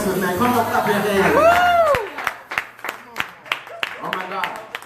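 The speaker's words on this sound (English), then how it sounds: "Come on, clap your hands." Church congregation clapping along during a lively praise service, sharp rhythmic hand claps at a steady beat after a sung phrase, fairly close and loud with voices around.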